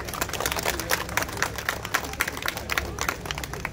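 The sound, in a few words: audience clapping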